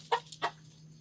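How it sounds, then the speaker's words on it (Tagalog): Two short, close clucks from a chicken in quick succession, followed by a low steady hum. "Yan yung mga chicken."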